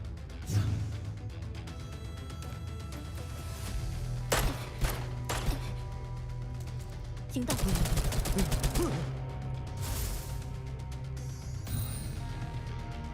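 Gunfire from the video game Girls' Frontline 2 as an enemy is shot, with bursts of rapid shots and several heavier cracks over a constant game soundtrack and effects, without voices.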